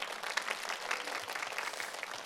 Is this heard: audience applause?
yes